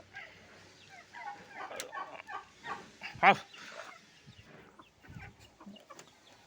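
Native country chickens cluck in short, scattered bursts on a rooftop terrace, close by and moderately loud, with one sharper squawk midway and quieter pauses between calls.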